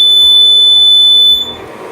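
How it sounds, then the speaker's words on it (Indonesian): An electronic low-battery alarm buzzer on a microcontroller circuit emits a loud, piercing steady tone with a few rhythmic low thumps beneath it, then cuts off abruptly near the end. "Dia akan berbunyi selama 10 detik."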